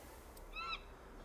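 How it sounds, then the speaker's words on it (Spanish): A bird in the video game Broken Sword 5 gives a single brief, faint hooting call over a steady background hum, with no talking. "Que aquí hay un pájaro muy pesado."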